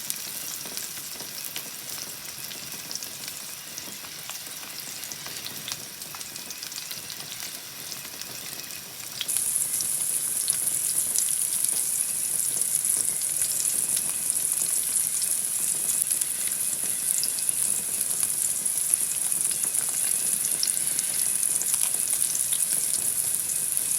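Garlic and potatoes fry and brown in a pan with a continuous crackling sizzle that grows louder and brighter about a third of the way in, then holds steady with no talking.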